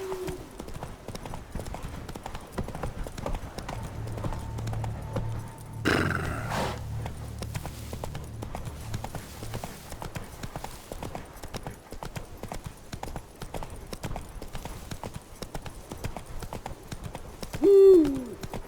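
Roach, a horse in the video game Witcher 3, trots with rhythmic clip-clop hoofbeats under ambient game sound, with a brief louder accent near the end.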